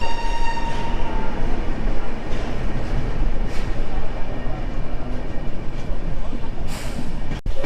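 The Coromandel Express pulls out of Visakhapatnam railway station with a steady, loud rumble of wheels and carriages, a continuous dense roar from inside the moving train, ending with a sharp click.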